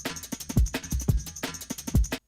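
A punchy drum break layered with loud extra kicks and snares drives a fast liquid drum and bass groove, thumping low hits and crisp cymbal wash repeating steadily before cutting off abruptly.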